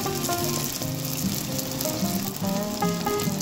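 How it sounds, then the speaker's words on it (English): Dough bakes sizzle and crackle steadily in hot oil, a loud, continuous frying hiss with faint tonal music underneath. "let us put a couple bakes in the oil and see what's going on"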